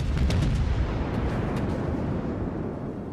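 Heavy naval gunfire from warships in the video game World of Warships, a dense, loud booming salvo rolling into a sustained rumble with a few sharper cracks.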